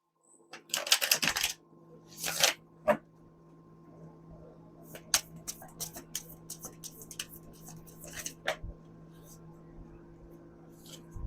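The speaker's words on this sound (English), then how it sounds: "The cards are resisting shuffling" Tarot cards shuffled by hand, stiff and resisting, in a quiet room: a few dense papery riffles early, then scattered soft clicks and flicks at close range, with faint whispering.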